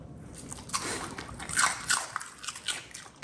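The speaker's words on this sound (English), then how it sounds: "Oh, such a satisfying crunch." Someone bites into a shrimp chip, giving a few sharp, close crunches followed by softer chewing, with no talk over it.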